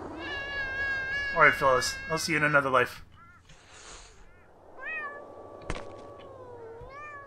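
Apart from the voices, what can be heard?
cats meowing in the video game Thirty Flights of Loving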